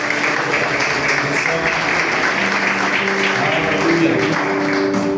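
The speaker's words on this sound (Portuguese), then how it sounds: "Vamos aplaudir o Senhor mais uma vez." A church congregation applauds steadily, a loud sustained wash of many hands clapping in a large hall, with voices and music faintly mixed in throughout.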